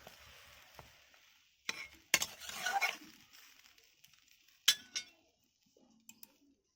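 A spatula stirring frying bean-leaf paturi in a pan at home, soft sizzling under a few bursts of scraping and clinks of the utensil against the metal, with quiet gaps between strokes.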